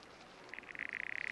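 Corroboree frog from the Australian Alps calling alone, a steady rising train of rapid pulsed notes that starts softly and grows louder over a quiet background.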